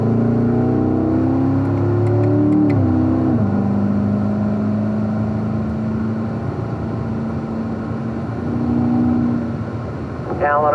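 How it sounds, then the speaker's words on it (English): A race car accelerates down a track straightaway, its engine whine climbing in pitch over the first few seconds and then holding a steady drone, with a voice talking over it. "Okay, I'm going to start to accelerate here."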